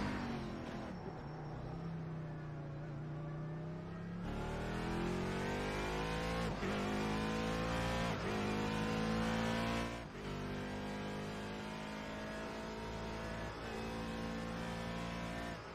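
A race car in the iRacing sim at Daytona runs warm-up laps, its engine rising and falling in pitch through repeated upshifts and revs, loud and continuous with no talk.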